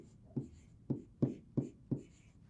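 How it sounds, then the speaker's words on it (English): A pen signs a name on a maintenance procedure card, giving five short scratchy strokes in a steady rhythm, close and quiet with no talking. "here is where you will sign your name"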